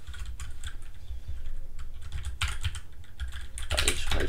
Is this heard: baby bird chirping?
no